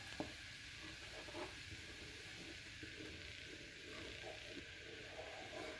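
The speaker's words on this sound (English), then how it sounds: "Give that a good stir." Spices and sugar stirred into ale in a pan just big enough for it, making Victorian mulled ale: a quiet, steady scraping and swishing with faint clicks, close by and alone.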